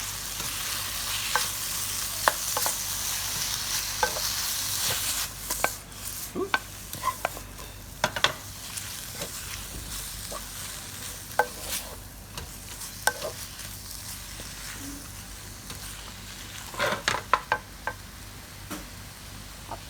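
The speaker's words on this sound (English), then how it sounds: "we're gonna put everything in here yes all the vegetables and we stir fry it up" Vegetables for kimchi pork stir-frying in a pan with a steady hiss of sizzling oil, broken by scattered taps and scrapes of the spatula, close and continuous with no talking.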